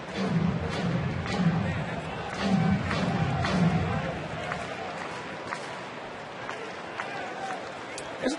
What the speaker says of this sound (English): There's a nice crowd here tonight, partner, for a Tuesday night, school night.